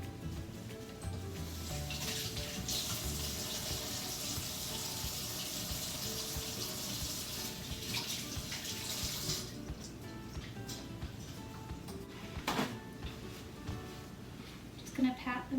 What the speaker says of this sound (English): I'm just going to rinse off the extra shells real quick